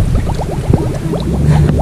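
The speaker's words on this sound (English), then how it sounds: "First, you have to fill the water bottle." Water glugs and bubbles rhythmically into a plastic bottle up close, a quick series of gurgling pops.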